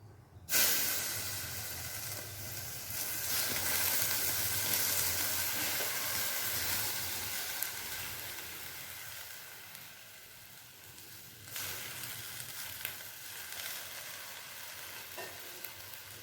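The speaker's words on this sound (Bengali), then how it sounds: "তো এখন আমি যজ্ঞটা জল দিয়ে নিভিয়ে দেব।" A sacrificial yajna fire, lit for the Saptami and Ashtami rites, is doused with water and gives a loud, steady sizzling hiss that lasts many seconds and slowly fades. A second strong surge of hissing comes near the end as more water hits the flames.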